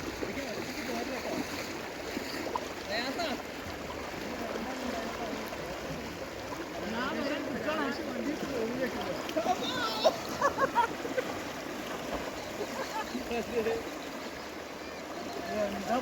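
Strong river current washing past, a steady broadband rush of flowing and splashing water that holds loud and continuous throughout, with brief splashes and faint voices mixed in.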